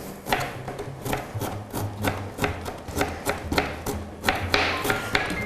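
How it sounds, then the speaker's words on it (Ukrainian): A knife chops fresh parsley on a cutting board in a kitchen, making a steady series of close, crisp taps with no talking. "Усю петрушку різати?"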